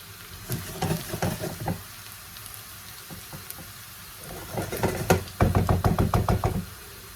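Potatoes, onions and garlic cook in a pan with a soft background sizzle, broken by clusters of sharp, rapid knocking taps from a utensil striking the pan, loudest in a quick run near the end.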